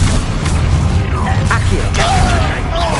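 Spell-casting burst from a Hogwarts Legacy duel on PS5, a loud magical whoosh and crackle with rising tonal sweeps over a dense game soundscape of booms and effects, under a voice.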